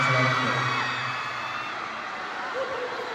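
Concert crowd at a performance yelling and cheering, a loud burst of shouts and whoops at the start that fades to a lower roar, with a voice briefly rising near the end.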